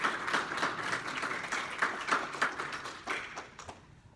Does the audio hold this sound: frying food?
no